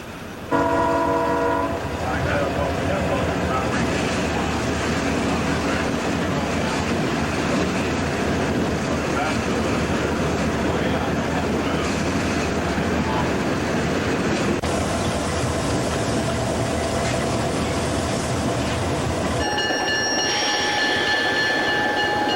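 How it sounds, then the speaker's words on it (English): A tourist train led by Alco 5 on the Adirondack Centennial Railroad rumbles steadily past, loud and near, with a long sustained horn blast at the start and another horn toward the end. "After a lash-up with Alco 5 at Minnehaha, the train proceeded to Thendara for yet another tourist run."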